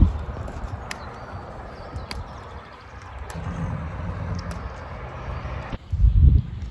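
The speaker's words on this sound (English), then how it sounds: "My two main horses now are very slow and lethargic in their walk." Horses walk along slowly, their hooves clip-clopping in a steady, even rhythm over a constant outdoor background, with a louder thump near the end.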